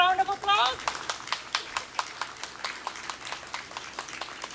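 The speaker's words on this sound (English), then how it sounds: "Can I have a round of applause?" Audience applause at a garden benefit event, a short burst of clapping from a modest crowd following a brief voice, thinning into scattered claps.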